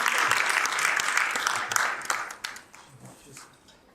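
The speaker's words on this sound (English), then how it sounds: "And one more round of applause for Martina." A crowd at a Detroit community evening event applauds Martina, a dense burst of clapping that is loud at first and then thins and fades over a few seconds, with voices mixed in.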